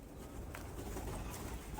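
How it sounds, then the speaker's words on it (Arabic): Pigeons coo softly inside a pigeon tower, low murmuring calls over a steady background rumble, fairly faint and close, with no talking. "شوف الحمام جاء"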